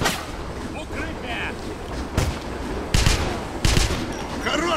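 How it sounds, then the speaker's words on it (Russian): Several gunshots from the video game Wolfenstein, loud irregular cracks in quick succession over wind-like background noise, with brief voices mixed in. "Хороший выстрел!"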